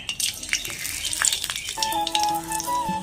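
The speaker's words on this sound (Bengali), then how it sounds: "যে তেলে পটল ভেজেছিলাম সেই তেলে শুকনো মশলা দিয়ে দেবো দারচিনি লং গোলমরিচ এলাচ" Whole spices, cinnamon, cloves, peppercorns and cardamom, dropped into hot oil left from frying pointed gourd, crackling and sizzling loudly up close, with scattered pops and a faint tonal hum in the background.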